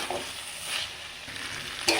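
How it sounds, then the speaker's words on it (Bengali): Winter vegetables stirred through hot oil and frying spices in a pan for a vegetarian dish, giving a soft steady sizzle with scraping stir noises and a sharper clatter near the end. "এখন আমি সবজিটা দিয়ে ভালো করে আবার নাড়িয়ে নেব, সব একসাথে মিশিয়ে নেব।"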